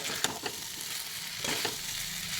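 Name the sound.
stirring cauliflower frying in a pan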